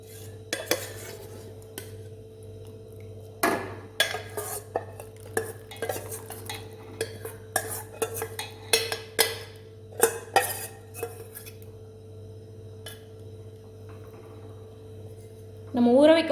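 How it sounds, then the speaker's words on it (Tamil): Soaked white sorghum rava goes into boiling water in a cooking pan and is stirred with a metal spoon, giving repeated clinks and scrapes against the pan over a low steady hum. "இப்போ நம்ம ஊற வச்ச ரவையை சேர்த்துக்கலாம்."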